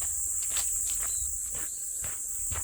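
Footsteps on a quiet, little-used hiking trail near a lookout in Yanggu, Korea, steady crunching steps at close range repeating about every half second, with a constant high insect drone behind and no talking.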